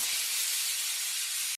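A pressure cooker boiling chickpeas lets out a loud, steady hiss of escaping steam that holds evenly close by and then cuts off abruptly.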